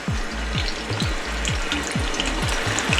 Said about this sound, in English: Now I can put my franks. Get them sizzling.